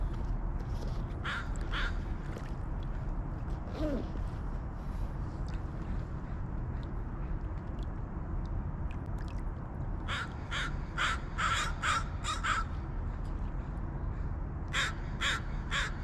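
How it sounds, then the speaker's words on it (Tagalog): Crows cawing behind a person outdoors near water, with scattered harsh calls early, then loud repeated bursts of cawing later, over a constant rumble of wind and engine-like noise. "Ang kulit ng mga ibon mga idol."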